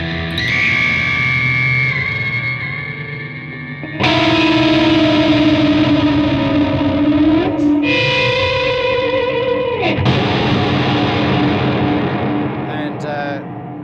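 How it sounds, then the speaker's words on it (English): Electric guitar runs through a deliberately ugly pitch-shift effect, a copy a semitone off blended with the main notes, giving sinister detuned chords with swooping bends and echoing tails, loud and close with no voices. "This is a deliberately really ugly kind of pitch shift effect"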